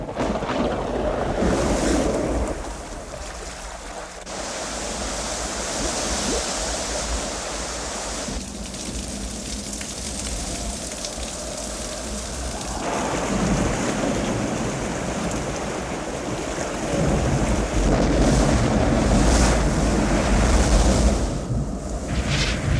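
Rushing water in a great deluge pours in a loud, continuous roar with surging swells and gusty wind noise, rising and falling over about twenty seconds with no voices.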